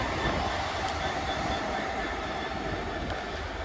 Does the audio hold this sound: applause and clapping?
no